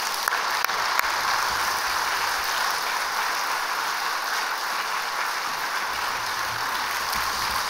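A congregation at an early-morning special prayer service at Gangbuk Jeil Church applauds to welcome Pastor Park Jang-hyuk, a steady, even wash of many hands clapping throughout the clip, with no voices over it.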